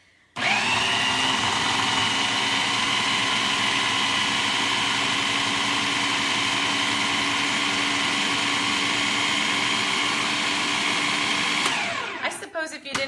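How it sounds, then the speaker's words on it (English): A countertop blender whirs loudly and steadily while blending cheesecake batter for about eleven seconds, then winds down to rattling clatter as it stops. "And we're going to blend that up."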